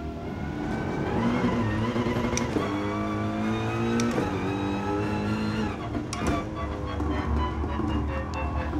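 Race car engine from the Gran Turismo Sport racing game on the Nürburgring, loud and continuous with rising and falling revs and gear shifts throughout, no talking.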